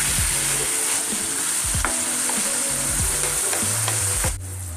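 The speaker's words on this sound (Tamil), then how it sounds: "இந்த சிக்கன் பார்த்திங்கன்னா எண்ணெயிலேயே வந்து நல்லா வதங்கணும்." Chettinad pepper chicken sautéing in oil, a loud continuous sizzle and fry with scraping stirs of a spatula repeating against the pan, alone and close.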